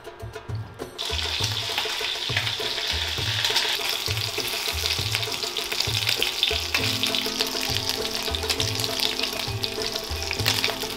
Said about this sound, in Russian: Далее поджариваем мясо на сливочном масле до красивой корочки.